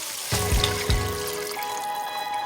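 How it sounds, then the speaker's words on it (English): Beef broth pours into a soup pot for lasagna soup, with a couple of splashy starts and then a steady trickling stream close by. "Now you want to add in your 4 cups of beef broth."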